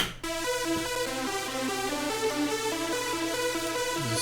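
A synth melody from a dark electro track plays a line of stepped notes over a sustained low bass tone. It is steady and moderately loud, with no voices.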